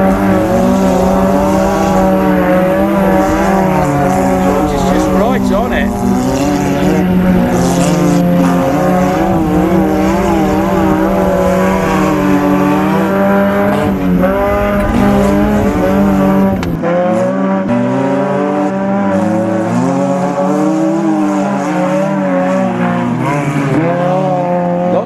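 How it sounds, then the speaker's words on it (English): Race cars running on snow tires roar together in a continuous loud pack, their engines droning and shifting pitch as wheels spin through the corners, with no talk. "Just wheel spinning all the way round."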